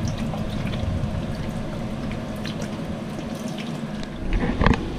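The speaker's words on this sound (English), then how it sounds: "I'm gonna spray this guy here. And I'm gonna wash that off." A dirty part from a boat's overflowing bilge is rinsed with a water spray, making a steady, close hiss and splashing that runs throughout and swells briefly near the end.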